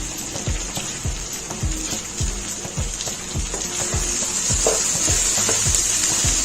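Okra for masala bhindi sizzles loudly in a pan while a spoon scrapes through it in a regular, repeated stirring rhythm, close and busy with no talking.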